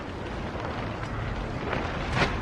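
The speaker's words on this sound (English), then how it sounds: "Sorry about the wind. It's really picking up right now." Strong gusting wind buffets an outdoor microphone beside an MK4 Jetta during wiring-harness removal for a 1.8T MK3 swap, a continuous broadband rumble that swells in gusts and fills the whole clip.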